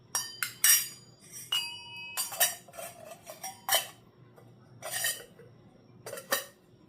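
Brass ghee pot and its spoon being handled, with a series of bright metallic clinks and rings in irregular bursts, close and clear against a quiet background.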